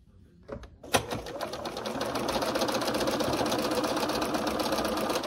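A sewing machine stitches quilt pieces together, its needle running in a steady, fast rhythm for several seconds after a few brief handling clicks at the start, close and clear.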